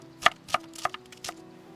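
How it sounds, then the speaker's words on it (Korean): Half an onion is sliced thinly with a knife on a board, four crisp chopping knocks in an even rhythm, close and fairly quiet over a low hum. "양파 반 개입니다. 얇게 썰어 주세요."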